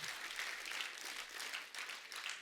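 The studio audience of a comedy talk show applauds continuously, a faint, even patter of many hands clapping with no voices over it.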